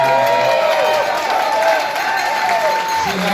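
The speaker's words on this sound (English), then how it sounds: "a round of applause for her" Applause from a crowd at an event, honoring the speaker's wife, steady and full clapping throughout with some cheering mixed in.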